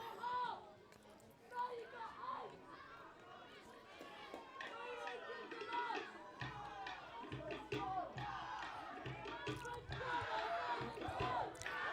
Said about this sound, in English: Lots of noise from the crowd at both ends.